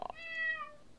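A kitten in the Minecraft Mo Creatures mod gives one drawn-out, high-pitched meow lasting nearly a second. It sounds clear and close, with no talk over it.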